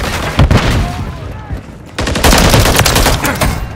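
Gunfire in the Call of Duty MW3 video game, set on an Afghan map, comes as dense bursts of rapid automatic shots. A short lull separates two volleys, with in-game callout voices heard under the shooting.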